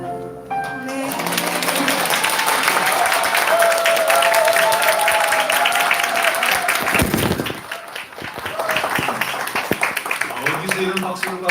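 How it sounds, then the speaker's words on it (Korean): A church congregation at Sunday worship breaks into applause, broad and sustained for most of the stretch, with sung or held tones and voices mixed in. It dips briefly near the end before resuming more loosely. "어디서 이런 박수를 받은 거예요?"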